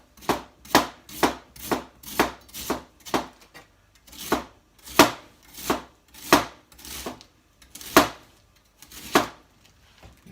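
A knife slices through cabbage for slaw on a cutting board, about fifteen crisp, evenly spaced cuts heard up close, with a short pause partway through and no talking.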